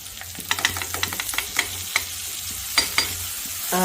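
Sizzling in a hot pan of tempering with repeated sharp clicks and scrapes of utensils as vegetables are tipped in from a plate and stirred; no talking.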